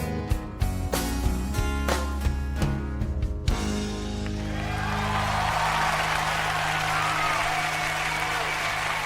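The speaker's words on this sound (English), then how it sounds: "Well-deserved applause" A song performed live at a 1996 MTV Unplugged concert fades out, and the audience breaks into sustained, loud applause and cheering that fills the rest of the recording.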